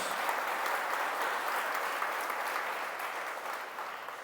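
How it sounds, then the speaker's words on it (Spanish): A church congregation applauds in a steady wash of clapping that holds for several seconds and tapers off slightly toward the end, with no voices over it. "Den un aplauso a la palabra de Dios."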